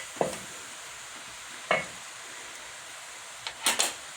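A spoon scrapes through minced beef stew in a pot in a few separate strokes, with long quiet gaps between them and a quick double scrape at the end, all fairly soft.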